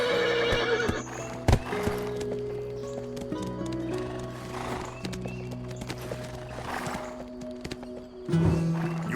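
Horses neigh and whinny with clip-clopping hooves in the fantasy video game Black Desert, a long whinny near the start and another toward the end over steady game ambience.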